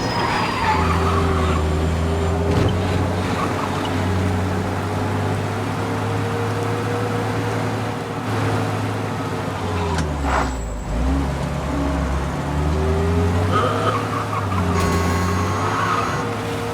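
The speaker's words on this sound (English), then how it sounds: "driving like a lunatic in Chinatown" A car speeds through Chinatown in Mafia Definitive Edition, its engine roaring loud and close throughout with shifting revs and brief tire squeals, and no talk over it.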